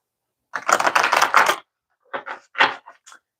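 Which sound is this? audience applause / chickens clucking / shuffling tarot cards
shuffling tarot cards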